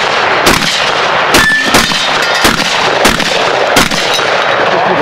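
Shotgun shots fired in quick succession at a tactical shotgun match, about seven loud, sharp blasts in an irregular rhythm over steady outdoor background noise.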